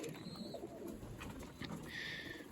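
Pigeons cooing in a loft during the moulting season, soft low murmuring coos under a steady background hiss, with a couple of faint higher chirps, no talk.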